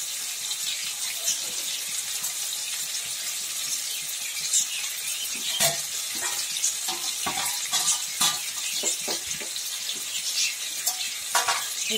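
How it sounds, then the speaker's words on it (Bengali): Potatoes and ginger frying in a pan with a steady soft sizzle, broken by sharper clinks and scrapes of stirring that come through close and fairly quiet. "আলুটা ভাজা ভাজা হচ্ছে, আদাটা গেট করে নিলাম।"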